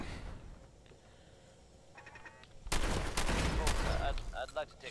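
Fallout 4 turrets open up in a sudden burst of rapid gunfire after a quieter stretch, loud and sustained for the last two seconds, with a voice talking over it.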